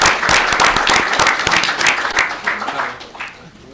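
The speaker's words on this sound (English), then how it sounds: "could we still give Shea a round of applause?" Audience at a city council meeting applauding after a proclamation, a dense burst of many hands clapping close by that continues steadily and tapers off near the end.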